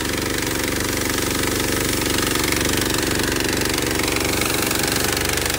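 Pump engine on a water trailer running at about quarter idle: a loud, continuous, rapid mechanical chugging with a dense, unbroken drone and no pauses.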